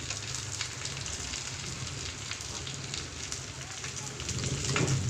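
Pansit cooking in a pan, a steady crackling sizzle of frying that holds at moderate loudness throughout and swells slightly near the end.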